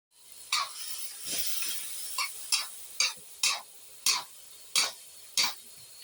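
Small cuttlefish stir-fried with salted egg in a hot pan, a soft continuous sizzle broken by about ten sharp, evenly spaced scrapes and clanks of a spatula against the pan.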